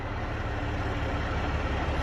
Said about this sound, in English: Smokey Bear's so sick of that log truck noise.